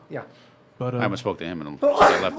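A single short sneeze bursts out near the start, then people talk casually in a close, dry room.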